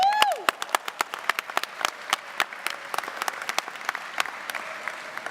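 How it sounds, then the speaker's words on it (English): Graduates and audience at a high school graduation ceremony applaud their teachers, crisp scattered hand claps from many people in a large hall, steady and moderately distant, with a brief rising tone at the very start. "Students, please give your teachers one last round of applause."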